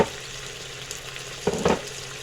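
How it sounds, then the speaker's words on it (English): Potatoes and water go into a hot pan, a steady sizzle and fry rising into two louder bursts of crackling spatter midway. "pull those out, drop the taters in, add the water"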